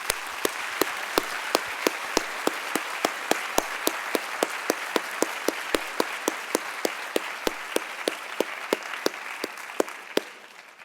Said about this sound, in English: A round of applause, please, for the family and friends